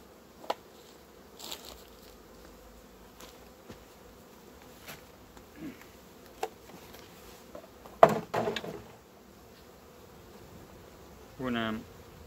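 Honey bees in an opened hive with a black queen, a faint steady buzz under scattered quiet clicks and knocks, with a louder buzzing swell near the end.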